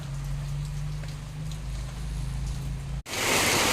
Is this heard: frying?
no